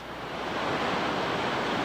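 Whitewater at Pillow Rock rapid on the Gauley River, a steep, short drop of roaring water heard as a dense, steady rush that swells slightly, loud and close with no voices.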